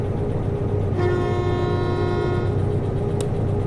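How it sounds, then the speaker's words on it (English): A locomotive horn in the train simulator game Derail Valley sounds one sustained, steady blast of about a second and a half over a constant rumbling engine drone, loud and close. "What is this, the horn?"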